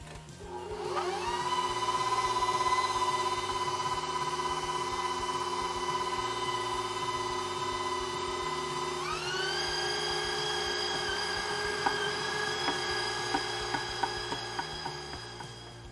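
An electric meat grinder runs bread through for sausage making, giving a steady high-pitched motor whine that shifts up in pitch partway through, with faint clicks and rattles near the end.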